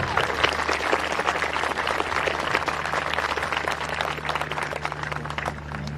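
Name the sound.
audience applause at graduation ceremony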